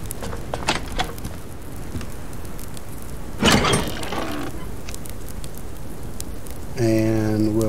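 Rain falls continuously in a survival base-building video game, a steady hiss under intermittent clicks and clunks, a brief louder burst, and a tonal game sound at the end.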